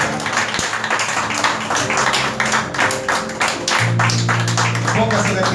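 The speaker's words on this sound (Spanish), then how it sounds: "Denle un fuerte aplauso al Señor" Church congregation clapping in praise during a Spanish-language service, a dense patter of hands mixed with a voice speaking over it.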